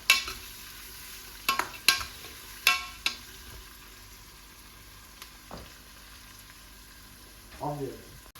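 Food for Hyderabadi-style paya sizzles faintly in a pan while a utensil scrapes and clinks against it in several sharp, irregular strokes. A brief voice sound comes near the end.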